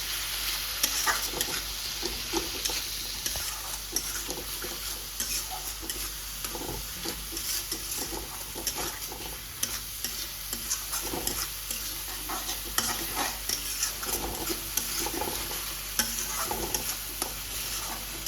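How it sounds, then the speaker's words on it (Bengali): Potatoes go into hot oil with fried spices for a prawn and potato curry, giving a steady, continuous close sizzle with faint stirring crackles throughout. "এরপরে আলুগুলো দিয়ে দিই। তেল ছেড়ে দিছে, ওনা আলুগুলো দিয়ে দিই"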